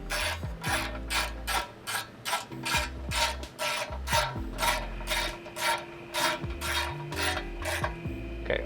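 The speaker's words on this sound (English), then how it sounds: "Okay, and we're just gonna get these snug." A hand ratchet tightening the transmission pan shield bolts on a 2023+ Nissan Z, a steady run of rapid close clicking strokes with brief pauses between pulls, no talk.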